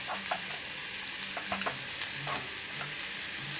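Pink-browned onions frying in a pan as spices go in and are stirred, with a steady sizzle under soft scraping strokes of a spoon, close and without talk.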